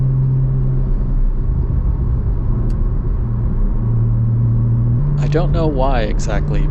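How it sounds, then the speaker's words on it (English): Porsche 981 Cayman S flat-six with sport exhaust, a steady low engine drone and rumble from inside the moving car, holding a level pitch with a slight step up near the end as someone talks over it. "I love the sound of this motor and the sport exhaust."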